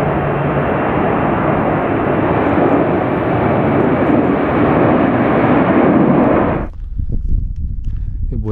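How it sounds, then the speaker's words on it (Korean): An airplane passes overhead on a San Diego, California trail, a loud broadband roar that holds steady for several seconds and then cuts off sharply, leaving quiet outdoor ambience. "헬리콥터 찍고 있는데 갑자기 비행기가 나타나네"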